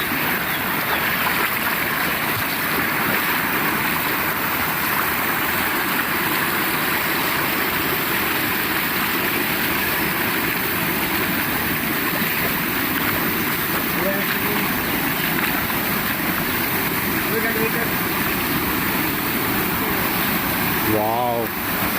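Sonapur waterfall makes a steady, unbroken rushing roar that stays loud and constant throughout, while people talk faintly nearby.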